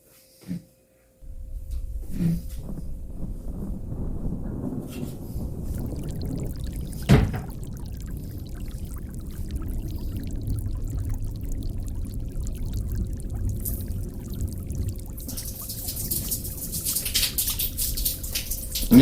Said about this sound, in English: I'm peeing on the floor